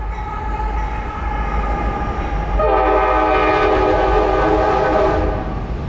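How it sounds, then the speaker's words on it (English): Train rolling past beside the Sunsweet prune juice factory, a steady low rumble joined midway by a loud sustained multi-tone horn blast, close and dominating the sound. "Here comes the train."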